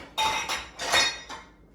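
Dishes and pans clatter into a kitchen sink after a steak dinner with mashed cauliflower and broccoli, three quick clinking, clanking bursts of metal and crockery, close and fairly loud with no talk.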